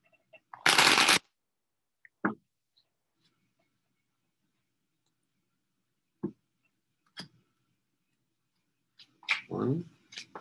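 Tarot cards riffle in one short, crisp shuffle near the start, followed by scattered soft card taps and rustles, with a longer flurry of handling toward the end, close and quiet in otherwise still surroundings.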